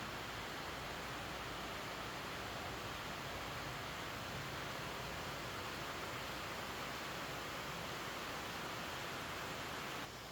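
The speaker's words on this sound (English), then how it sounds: "And just like that, it started raining" Heavy rain pouring down during a storm in the Philippines, a loud, unbroken hiss of falling water that fills the whole clip at constant strength with no voices.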